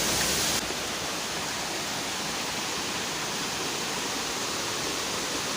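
A mountain river rushes over rocks on a hiking trail up Puncak Ciguntur, a dense, steady roar of water close by that carries on without a break.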